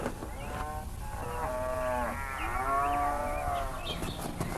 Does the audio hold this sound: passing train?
no